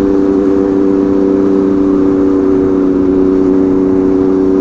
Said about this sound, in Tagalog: Ingay ng tambutso.